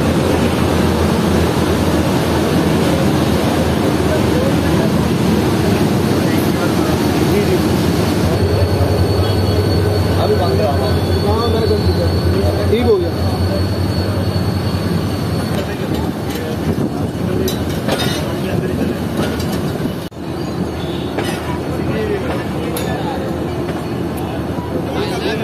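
The Baba Fareed Express pulls out of Rahim Yar Khan railway station, a loud continuous rumble of wheels on rails with thin squeals and clanks as it gathers pace.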